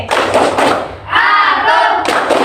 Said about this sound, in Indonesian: Tepuk konsentrasi.